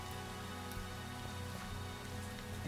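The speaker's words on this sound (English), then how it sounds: "It's raining." Steady rain in the Minecraft video game, a dense even patter of drops that runs continuously and fairly quietly with no voices over it.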